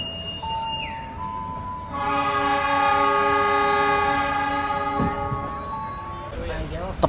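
The Ranggajati passenger train, a new stainless steel trainset, departs Ketanggungan Station with a long, loud horn blast over rumbling rolling stock, while a busy platform murmurs with people talking nearby.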